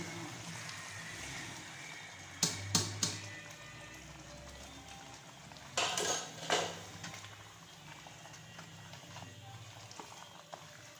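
Radish pods (moongre) tipped into a cooking pot, giving a few sharp clattering knocks and scrapes of metal, then a second cluster of clanks a few seconds later, against a quiet low kitchen background with no talk.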